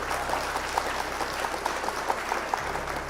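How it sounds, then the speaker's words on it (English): Steady applause from a crowd, a continuous patter of clapping at moderate level with no voices on top. "Round of applause for opponent."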